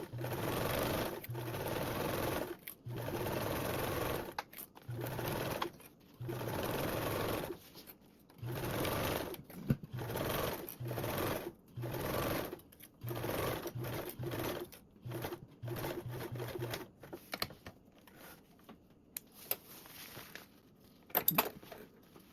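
A domestic sewing machine stitches duffle binding, back tacking and basting in bursts of steady whirring, with short pauses, a rapid stop-start stretch near the end, and a few light clinks.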